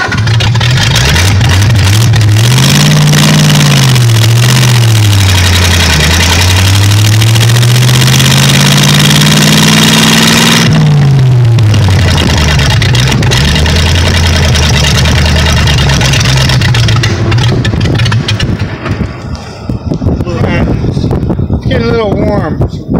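A 1927 Ford Model T hot rod engine runs and drives close by, its pitch sweeping up and down with revs and throttle blips, loud throughout with people talking over it.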